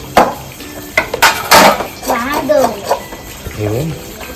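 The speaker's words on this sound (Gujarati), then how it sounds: "જો અમારા બબુભાઈ એમની મમ્મીને વાસણ કરવા" Clattering dishes and metal utensils clanking while washing up, with people talking over the clinks nearby.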